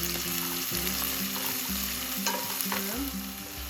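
Onions and whole spices with fennel seeds sauteing in a hot pan for Chettinad chicken curry, a steady close sizzle with metal stirring scrapes and a clink or two throughout.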